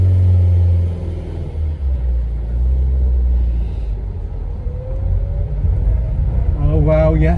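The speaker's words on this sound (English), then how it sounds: "that transmission whine. That noise. The A-series." Austin Allegro with the A-series engine and transmission, driven on the road: a steady low engine and road rumble with a faint rising whine running through it, plus a brief louder transient near the end.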